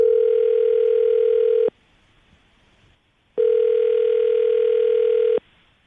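A phone ringback tone sounds while a morning radio show calls a woman, two long steady buzzing bursts separated by a pause of silence, clear and close with no talking.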